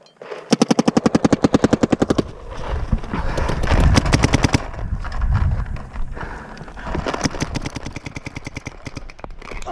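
Rapid volleys of paintball marker shots crack out in fast strings during a paintball game on an inverted mini field, loud bursts at the start and again near the end with busier mixed noise between.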